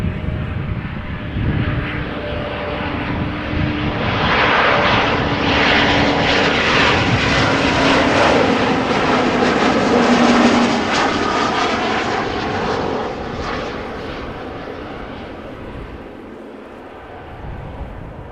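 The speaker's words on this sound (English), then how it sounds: "And a very gentle landing there." A fixed-wing airliner lands at Amsterdam Schiphol Airport, its engine roar swelling into a loud, broad rumble that holds steady and then slowly fades, with no voices over it.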